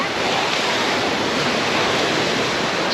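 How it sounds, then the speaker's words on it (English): Sea waves smash against the shore at Portals Nous, Mallorca, a loud, continuous roaring wash of surf with no pauses, close by and filling the whole scene. "enjoying the power of that water smashing against them."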